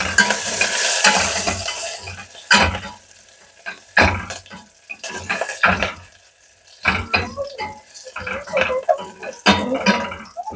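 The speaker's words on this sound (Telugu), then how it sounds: "ఉల్లిపాయలు వేగుతున్నాయండి." Onions fry in a pan for a Telugu drumstick-leaf dal, with crackling sizzle broken up by loud bursts of stirring and scraping in an irregular rhythm close by.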